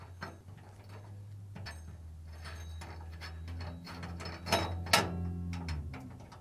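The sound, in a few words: 5mm Allen wrench removing dryer bearing bolt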